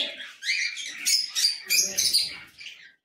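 Budgies chirp and chatter in a breeding loft: bright, overlapping tweets and squeaks at close range in a steady busy stream for about three seconds.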